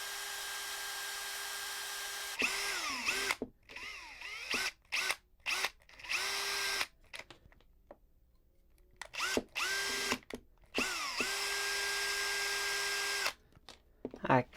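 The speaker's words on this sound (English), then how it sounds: "Now a bigger drill bit, so I need to drill out this hole." A power drill drills out a hole in metal with a bigger bit, whining in several bursts, long runs at the start and end with short stop-start pulses between, close and loud, with pauses of quiet.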